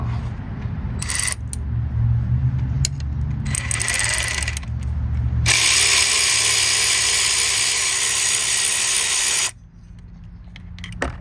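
A ratchet works a T30 Torx screw on the auxiliary water pump of a Volkswagen GTI: bursts of close mechanical clicking and rattling, then a long steady whirring grind that stops abruptly, with no talk.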